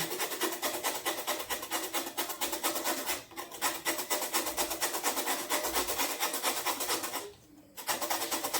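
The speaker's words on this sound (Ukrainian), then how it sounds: "Очищаємо дайкон. натираємо соломкою." Peeled daikon radish is grated into julienne strips with quick, steady rasping strokes at close range, with two brief pauses and no talk.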